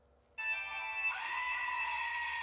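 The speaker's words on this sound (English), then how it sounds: "he got me a Halloween screaming goat" A Halloween screaming goat toy lets out one loud, sustained, human-like scream that starts abruptly and holds steady for about two seconds, close and alone with no talking.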